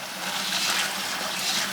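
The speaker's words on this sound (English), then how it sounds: "run the cold water" Cold tap water running steadily over yellow split peas, a continuous close hiss of flowing water with no pauses.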